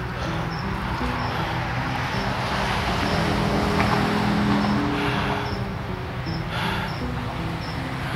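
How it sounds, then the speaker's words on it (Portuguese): Cars passing on a busy road next to the spot, a steady broad roar of traffic that stays continuous and fairly loud throughout, with faint chirping insects mixed in and no talk. "Vocês estão escutando bastante carros aí"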